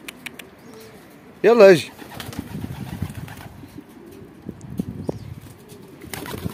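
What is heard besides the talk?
pet pigeons cooing and flapping wings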